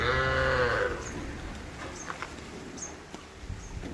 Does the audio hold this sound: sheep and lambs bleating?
yes